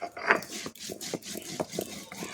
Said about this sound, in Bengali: জিরে আর গোলমরিচটা ভেজে নিয়েছি সেটাই এখন গুঁড়ো করে নেবো মশলাটা কিন্তু আমি এবার বেটে নিচ্ছি